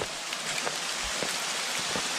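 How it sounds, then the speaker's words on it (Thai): Steady rain pattering on foliage and surfaces outdoors in hill country during a mushroom-foraging walk, a continuous close hiss with scattered individual drop taps, no voices. "มาดอยนี่ยังไงฝนตกย่ามนั่นเลยครับ"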